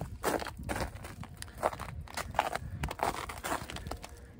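Footsteps crunch across ground coated in about an inch of ice on a winter morning, an irregular series of close, gritty crunching steps at a moderate level with no speech.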